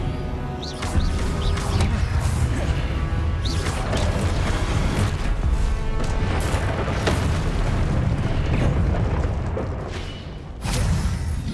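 Repeated Confringo blasting-spell explosions in the Hogwarts Legacy video game, loud booming bursts layered over a dense, continuous rumble of battle effects with no pauses.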